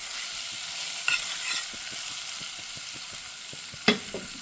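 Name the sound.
stirring cumin into sautéing yuca in a pan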